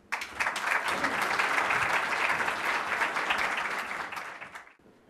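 Applause fills the hall at a formal ceremony incorporating a judge, swelling quickly into a loud, dense burst of clapping that holds for a few seconds and then fades out.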